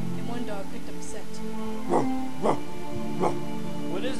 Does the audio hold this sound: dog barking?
yes